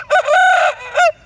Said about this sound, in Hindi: किस तरह की अज़ान है और किस तरह का मुर्गा आपके सामने है